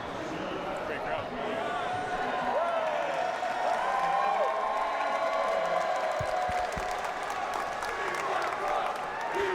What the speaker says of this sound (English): They started chanting it right away.